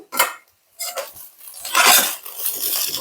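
A spoon turns spiced basmati fried rice in a pan, making a short run of close scrapes, clinks and rustling stirs with brief pauses between them.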